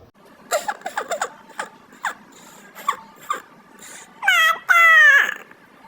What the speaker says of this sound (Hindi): तभी उन्हें किसी बच्चे के रोने की आवाज सुनाई दी।